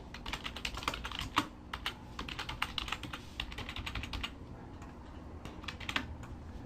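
Rapid keystrokes on a computer keyboard while an audit question is entered into software, with irregular clusters of close, crisp clicks throughout and no talking.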